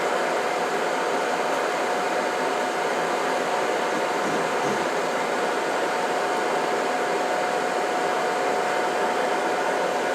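Steady breathy roar of a forge blower turned down low while cable Damascus steel heats toward welding temperature, a constant broadband rush without pauses, close and even throughout.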